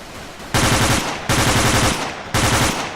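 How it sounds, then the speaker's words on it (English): Three loud, close bursts of rapid machine gun fire in the video game Battlefield, each about three-quarters of a second long with a short gap between them. "It appears that he has been cut down by machine gun fire"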